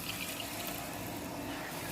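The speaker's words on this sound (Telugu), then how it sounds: "అల్లం వెల్లుల్లి నూరుకున్న వాటర్ ఉంటుంది కదండి, అది వేసేసుకుందాం" Water ground with ginger and garlic is poured into a cluster beans curry in a pan. It makes a steady, close splashing gush that lasts the whole moment, with no talk.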